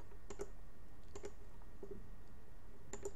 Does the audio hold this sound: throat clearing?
no